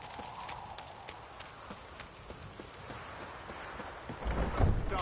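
Horse hooves clip-clopping in The Witcher 3 as a game mount trots along, a steady near rhythm of hoof strikes over a low ambient bed, swelling louder toward the end.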